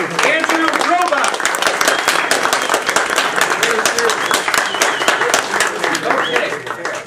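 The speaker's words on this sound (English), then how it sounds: "let's have a warm round of applause for our speaker, Andrew Robuck" A warm round of applause for speaker Andrew Robuck fills the room, dense steady clapping from the audience that continues throughout, with some voices in the crowd mixed in.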